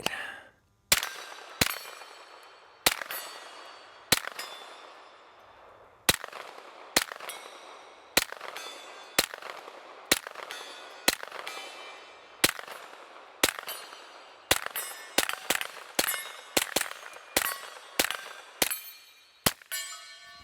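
A Ruger LC Carbine in 10mm fires about twenty sharp, loud shots at a steel target, each crack followed by a ringing metallic clang, spaced irregularly and then in quicker strings toward the end.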